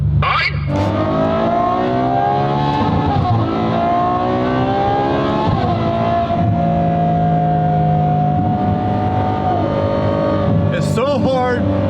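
A new Ferrari Testarossa accelerates on a highway, its loud engine droning and climbing steadily in pitch, with a brief drop at a gear change, while people talk over the cabin sound.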